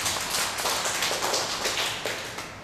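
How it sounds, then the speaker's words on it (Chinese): A church congregation claps hands for Jesus in quick, rhythmic bursts that blend into a dense, steady patter of many hands, with no voices heard. "然后拍手给耶稣他"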